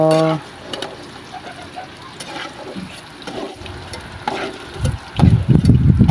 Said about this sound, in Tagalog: Gisa na natin yung ating mga ricado